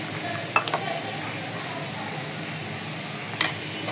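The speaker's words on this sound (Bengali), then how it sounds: "আর মাছের পেঁয়াজটা আমি আলাদা ভাজা করতেছি।" Onions frying on their own in a pan at home for a rohu fish dish, a steady soft sizzle throughout with a couple of brief stirring clinks near the start and end.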